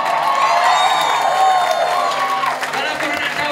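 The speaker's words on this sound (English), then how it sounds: "Give a big applause to them." A crowd at a live rock show in a hall in Johor applauds and cheers a band, a loud, sustained burst of clapping, whoops and shouts that fades slightly toward the end.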